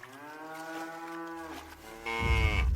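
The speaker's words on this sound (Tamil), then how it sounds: "செவனாண்டி மாடு கிணத்துல விழுந்துச்சாம்டா" A cow lets out a long, drawn-out moo that wavers in pitch, followed by a lower rumbling noise toward the end, fairly close and without speech.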